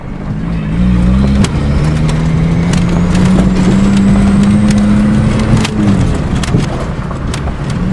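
A Dodge truck with a 5-speed runs steadily and fairly loud outdoors on a farm at night, its engine holding a near-constant drone with slight shifts in pitch and no speech.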